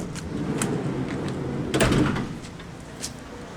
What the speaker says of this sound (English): you only have the sliding door on the passenger side